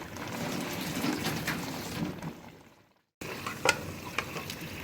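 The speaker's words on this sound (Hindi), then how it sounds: "और इसको भून लेंगे हम।" Steady frying sizzle of mutton and spinach in a wok with occasional stirring clatter, briefly dropping to silence midway before resuming at moderate level.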